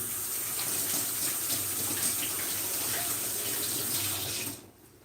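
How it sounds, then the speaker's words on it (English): Tap water pours steadily into a kitchen sink as hands are washed, a loud, continuous splashing rush that cuts off near the end, leaving a quieter tail. "I'm going to wash my hands"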